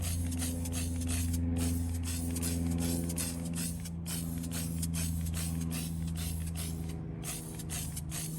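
Spray paint is applied to the fronts of the blades of a 1955 Westinghouse fan: a steady, close hiss with a few brief breaks runs over a constant low electrical hum.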